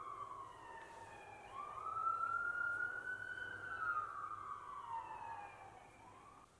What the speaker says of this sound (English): Oh, fucking sirens in the background.